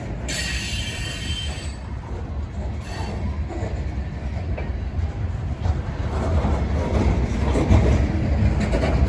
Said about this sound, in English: These covered hoppers that are passing me now, I think are going to be dropped off.